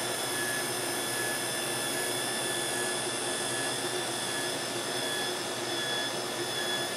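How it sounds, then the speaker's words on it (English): Motor of an Orion Starseeker IV telescope mount running after repair, a steady loud whirring drone that stays constant and close throughout, with no speech over it. "I had the motor was overpowering my voice"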